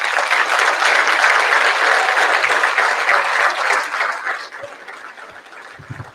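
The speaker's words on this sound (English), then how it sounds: "If you would all like to give them one last round of applause." Banquet audience applauding Hall of Famers, a dense sustained clapping that fills the room for about four seconds and then thins out, with a few scattered claps near the end.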